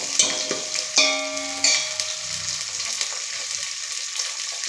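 Green chillies drop into hot oil in a pan for an Andhra-style sambar, setting off a loud, steady crackling sizzle with sharp spatters at the start as they hit, then a continuous bubbling fry with no talking.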